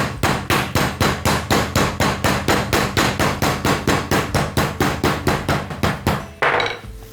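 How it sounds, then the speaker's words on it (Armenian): Meat is pounded with a mallet to loosen its fibers for a sorrel and bean soup, about twenty heavy, regular thuds in a steady rhythm, close and loud, ending with a short scraping sound. "Փոքր ծեծում ենք,"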